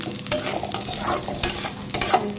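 Food fries in a pan at a home kitchen, with steady sizzling broken by bursts of stirring and scraping, close and alone.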